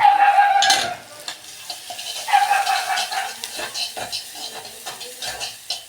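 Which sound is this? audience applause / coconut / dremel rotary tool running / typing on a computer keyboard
coconut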